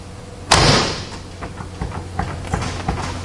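A door on a 1970 Chevrolet Chevelle SS shuts with a single sharp, loud thud, followed by faint rattles and small knocks from the car body, with no talking.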